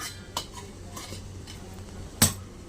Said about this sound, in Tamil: இப்போ இட்லி பாத்திரம் மூடியை எடுத்து நான் மூட போகிறேன்